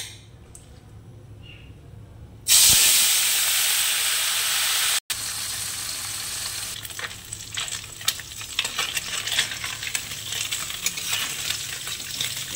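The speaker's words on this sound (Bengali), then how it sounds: "তেলটা গরম হয়ে গেছে, এবারে মাছ দিয়ে দিব" Small river fish dropped into hot oil in a kadai for an onion chorchori. A loud sizzle bursts in suddenly, then settles into a steady, crackling fry that carries on alone.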